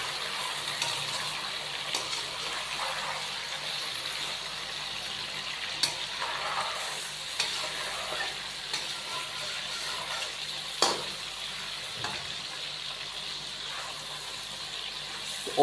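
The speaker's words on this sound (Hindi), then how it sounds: "चिकन को फ्राई करेंगे।" Chicken fries in a karahi with a low, steady sizzle and scattered clinks and scrapes of stirring over about fifteen seconds, fairly quiet throughout.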